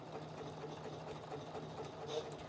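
A sewing machine stitches a few forward and back stitches along a dress seam, a soft, steady mechanical hum and rapid needle chatter that stays faint and close throughout.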